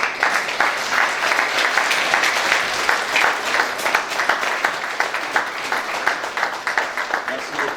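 An audience at a national justice week launch ceremony applauds steadily, a dense patter of many hands clapping that holds for several seconds with voices faint underneath.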